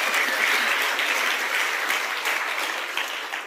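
Loud, dense audience applause and clapping continue steadily for a few seconds before thinning slightly at the end, with no voices on top.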